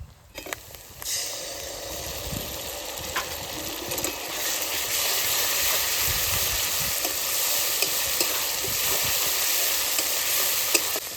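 Tomato paste goes into a pan of fried onion and ginger paste and hisses in a loud, steady sizzle that continues for several seconds, with no talking.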